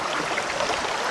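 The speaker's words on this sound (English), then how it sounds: "We got a waterfall with a stream, a wee river." Continuous rushing water from a waterfall and small stream flowing below a bridge, a steady broadband wash heard up close with no pauses.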